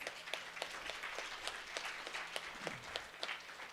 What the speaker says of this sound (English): Is everybody going to clap for a second?